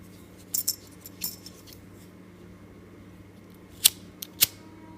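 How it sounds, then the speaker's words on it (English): Scissors snip through paracord while a dog collar is being finished, giving a few quiet, sharp, crisp cuts spread out over several seconds against a faint steady hum. "So I'll just snip that off and melt."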